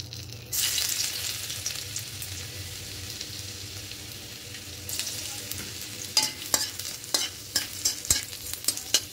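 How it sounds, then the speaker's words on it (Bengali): Chopped garlic fries in hot oil in a pan, used earlier for frying lentil dumplings. A steady close sizzle starts abruptly, swells again partway through, and is punctuated near the end by the sharp clicks of stirring. "রসুনগুলো ভাজা হয়ে যাচ্ছে, একটু গন্ধ বেরিয়েছে রসুন ভাজার"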